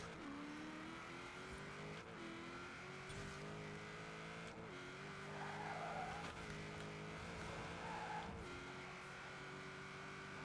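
A V8 engine-swapped car with over 1,000 horsepower accelerating hard in Forza Horizon 4, its engine note climbing steadily through several gear shifts, loud and continuous, with tire noise and no talk.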